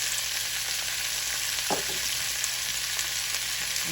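Peppers and onions fry in a pan with a constant, close sizzle and one short scraping stir partway through.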